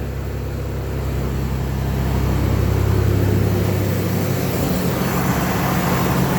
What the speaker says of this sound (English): truck just started, so I'm not gonna rev it.